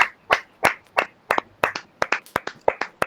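A congregation at a women's fellowship prayer service claps in loose, uneven strokes, the sharp hand strikes close and clear, about a dozen claps spread over a few seconds with no voices over them.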